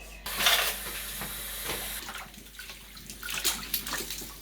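Running water splashes and rinses with light clinks of dishes and utensils, close by and fairly quiet, no voices.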